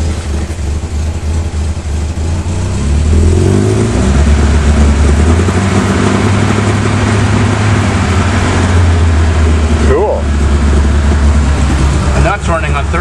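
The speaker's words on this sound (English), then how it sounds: "I'll give it one rev, then I'll shut it off before we fill the garage with gas" A 1973 BMW 2002tii that sat for 13 years runs in a garage after a cold start on old gas, idling loud and close, then takes a single rev that swells and settles, with a voice talking over the engine.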